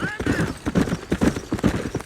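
A horse in the video game Red Dead Redemption gallops with a regular, rhythmic clip-clop of hoofbeats, close and clear, beginning with a brief high tone.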